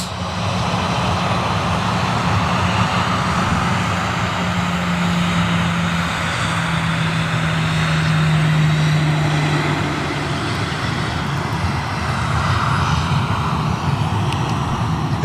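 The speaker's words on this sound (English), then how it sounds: "Looks like a TUI 730 taxiing out" A TUI Boeing 737 airliner taxiing at Manchester Airport, a steady loud jet engine rumble and whine held for the whole stretch, with a low engine tone rising and falling in pitch midway.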